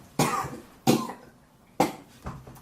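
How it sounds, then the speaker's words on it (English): A man coughs through a gag in a few muffled, separate bursts, four short coughs spaced irregularly, fairly close and moderately quiet. "the beefier of them coughs away"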